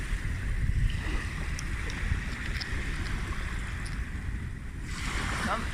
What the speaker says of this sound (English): I'm just going to wash it off in the sea.